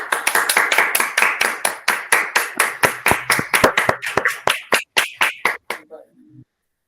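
A large group receives a round of rhythmic applause at a university event, steady clapping that gradually thins to a few scattered claps before fading out.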